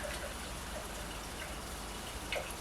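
Water from a kitchen tap runs steadily into a pot for cooking, giving a constant, fairly quiet gushing hiss with a few faint splashes and no voices.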